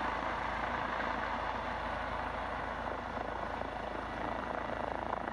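A rescue helicopter's rotor and engine drone steadily and fairly faint throughout, a continuous chopping rumble with no other sounds on top.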